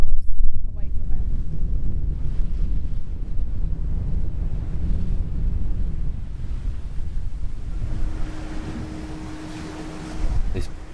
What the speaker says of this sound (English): Perfectly calm sailing.